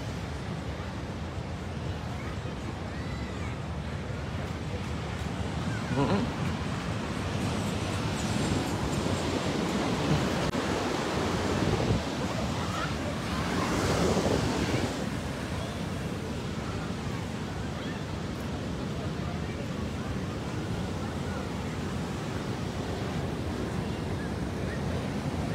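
Big ocean waves crash and wash continuously on a California beach, a broad roaring surf with a couple of louder breakers, mixed with gusty wind buffeting the microphone.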